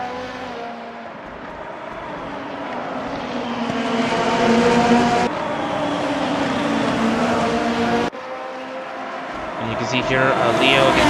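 Formula race cars lap Sportsland SUGO in a racing video game, engines whining loud and continuous, rising and shifting between cuts, with commentators talking over the noise.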